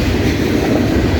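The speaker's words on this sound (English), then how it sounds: "This train is very dusty." A combined 200-car CSX loaded coal train rolls past at Morgan Station Road, producing a loud, steady, dense rumble and rushing roar throughout.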